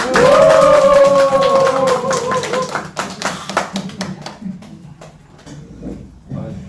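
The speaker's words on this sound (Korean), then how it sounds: "강사님 나올 때 함성과 뜨거운 박수로 환영해 주시면 고맙겠습니다." An audience at a company seminar in Seoul claps to welcome a guest lecturer. The applause starts loud and full, mixed with cheering and a ringing tone, then thins into scattered, fading claps.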